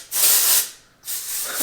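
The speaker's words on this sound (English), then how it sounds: "Oribe, of course, texture spray, and it just kind of gives it more of like a piecey look" Oribe dry texturizing hair spray hisses from a can in two short, close bursts with a brief gap between them.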